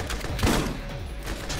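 A single shotgun blast from a weapon in the video game Borderlands, booming once near the start amid dense game background noise.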